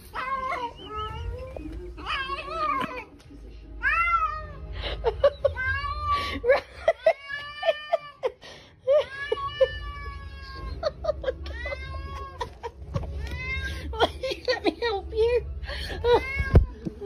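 A cat wearing a baby grow meows repeatedly with rising and falling whiny cries, close and fairly loud, in an indoor setting.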